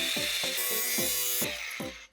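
A cutting disc grinds into a metal PC case in a loud, continuous hiss and screech, with a rhythmic rasping pulse from repeated strokes, close by.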